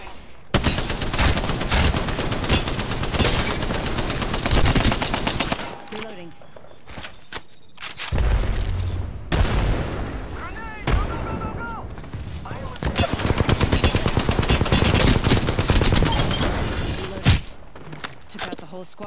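Rapid bursts of gunfire in the battle royale shooter Apex Legends, dense volleys and single shots crackling across most of the stretch with a brief lull midway, loud and close, with a voice talking over parts of it.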